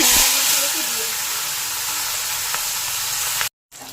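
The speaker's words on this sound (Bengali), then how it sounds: "তেল গরম হয়ে গেছে, এবার নুন হলুদ মাখানো" Salt-and-turmeric-coated mourala fish go into hot mustard oil in a kadai, producing a loud, bright, hissing sizzle that holds steady, then cuts out to near silence for a moment before resuming.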